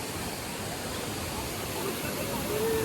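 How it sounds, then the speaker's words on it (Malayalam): A waterfall near Athirappilly roars as a steady, dense broadband rush, close and loud throughout with no break. "അത് കഴിഞ്ഞ് വാഴച്ചാൽ വഴി കയറിയപ്പോൾ ഒരു അടിപൊളി വെള്ളച്ചാട്ടം കണ്ടു"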